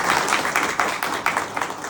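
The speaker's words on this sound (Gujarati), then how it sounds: "મહારાજ શ્રીને આપણે તાળીઓના નાદથી વધાવીએ" A crowd at a temple idol-consecration festival applauds a swami, a bright crackle of many hands with uneven surges and distinct claps, fairly close, without voices over it.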